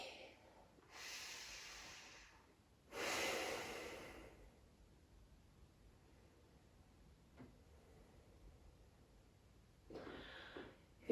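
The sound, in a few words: slow breathing during a yoga pose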